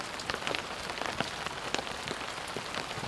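Rain falls on hard surfaces at a waterfront work site on a wet Saturday morning, a continuous close patter broken by scattered louder drips and splashes, with no speech.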